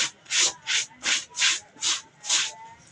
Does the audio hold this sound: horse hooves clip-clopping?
no